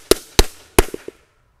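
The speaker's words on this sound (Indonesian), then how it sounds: "Selanjutnya kita nyalakan mercon tank di depan lubang bosku." A tank-type firecracker set off inside a hole in the ground gives three sharp, loud blasts spaced a fraction of a second apart, followed by a few smaller pops, with no talking.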